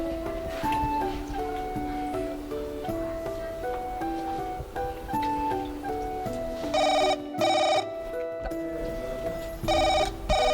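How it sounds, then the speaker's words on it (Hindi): Mobile phone ringtone playing as a steady melodic electronic tune, fairly loud and close, with brief pauses and bursts of brighter tones near the end. "तो मोबाइल बाजा थे कोनो साहब के फोन आए"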